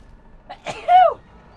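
A single close, sharp sneeze, preceded by a quick intake of breath, bursts out suddenly and stops, with a quiet room around it and no talking.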